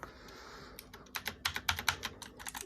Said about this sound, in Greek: με τις μπλε διακόπτες, πάρα πολύ κλίκι. Το ακούτε πιστεύω.